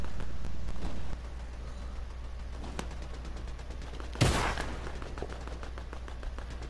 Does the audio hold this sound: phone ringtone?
no